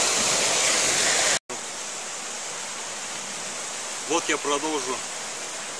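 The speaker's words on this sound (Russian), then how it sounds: "Бурлит потоками. Вода бежит. Снег тает." Spring snowmelt in April taiga sends water rushing in muddy streams, a loud, steady hiss and gurgle that cuts out briefly, then carries on under someone speaking.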